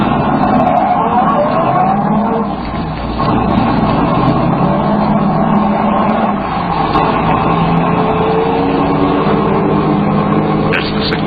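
A car in a vintage radio drama rumbles loudly and steadily, then brakes hard and skids to a quick stop, the engine and road noise filling the scene without any talk.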